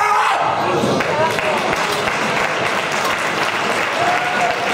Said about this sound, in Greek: Ένα χειροκρότημα, τα κιλά είναι πολλά.